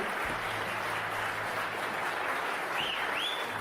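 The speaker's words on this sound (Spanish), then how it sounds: "fue largamente aplaudida por la totalidad de los asistentes al foro" Sustained applause from a forum audience after a speech, broad and even clapping that continues steadily throughout at a fairly loud level, with a brief whistle-like sound near the end.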